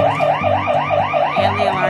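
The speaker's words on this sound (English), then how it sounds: "And the alarm keeps going off." An alarm sounds inside a crowded bridal shop, a loud rapidly repeating swooping electronic wail with a continuous pulsing cycle.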